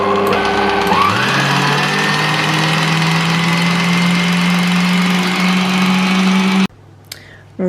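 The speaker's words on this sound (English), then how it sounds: "I'm just going to pop that in and whisk that up" An electric hand mixer whisks eggs, a yolk, oil and milk into cake batter, a loud steady motor whine that rises in pitch after about a second, holds close and constant, then cuts off abruptly.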